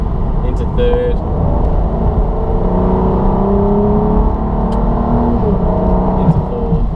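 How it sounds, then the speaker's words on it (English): A 2005 Aston Martin DB9 in sport mode on a wet road, its engine note rising steadily through the gears, loud and close from inside the cabin, with a voice speaking over it. "But this is what sport mode sounds like."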